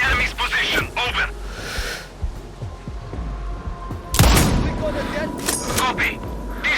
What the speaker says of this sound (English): I just heard gunshots